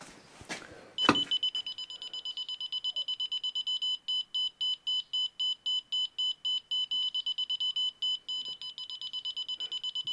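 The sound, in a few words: laser level receiver beeping against blockwork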